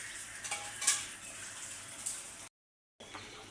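Beef and potato curry cooks in a pot, with soft bubbling and sizzling under a few clinks and scrapes of a utensil stirring, then a brief gap of silence near the end.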